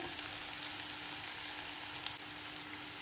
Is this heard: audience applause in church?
no